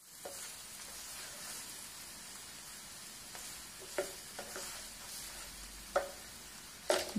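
Garlic and thinly sliced onion fry in oil in a pan, a steady bright sizzle with a few sharp pops and spatters standing out near the end.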